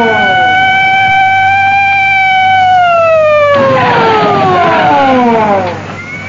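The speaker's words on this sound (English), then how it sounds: "In seconds, the runway was swarming with police cars that converged on Thunderbird 1." Police car sirens wailing on an airport runway, several overlapping tones sliding downward together, loud and close, with a thicker burst of sirens joining midway before fading slightly at the end.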